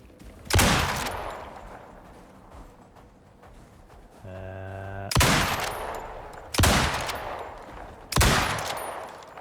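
Four loud, sharp bursts of gunfire ring out at intervals while hunting an elephant in the survival game Icarus, with a brief tonal in-game sound between shots and quiet ambience underneath.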